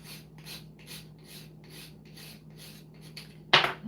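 A whole nutmeg scraped against a grater in a steady run of about nine rasping strokes, close and fairly quiet, ending in a louder, sharper scrape.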